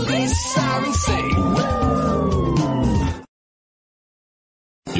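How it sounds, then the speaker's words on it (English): A cartoon police siren in a Daniel Tiger children's video game gives a single rising-and-falling wail over bright music and chatter, then cuts to silence before something briefly returns at the end. "and police sirens say whoa"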